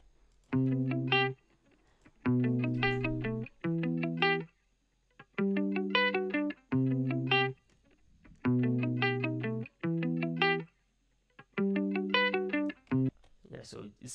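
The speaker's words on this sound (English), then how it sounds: "now I put the hardcore plugin onto it, you know, to make it sound a little bit full" A repeating synth melody in short phrases with gaps between them, sounding gritty and saturated from a heavy Hardcore distortion plugin, loud and upfront with no talking.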